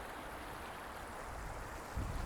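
A creek flows in a soft, continuous rushing hiss, faint and steady, with a brief low rumble near the end and no voices.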